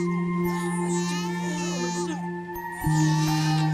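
An infant wails in long, high, strained cries, pausing briefly between them, close by, over a steady electrical hum.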